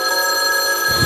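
A telephone rings on the floor below in a hospital, giving a loud, steady electronic ring that holds throughout, with a soft low thump near the end.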